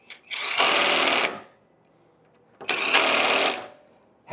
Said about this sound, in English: helps if I get the gun going in the correct direction.